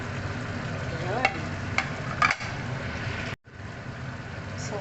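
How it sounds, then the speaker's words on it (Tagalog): Sayote and chili being stirred in a frying pan, a steady frying hiss with scraping strokes of the utensil, a brief dropout midway, and faint voices in the background. "So, haluin ko na siya."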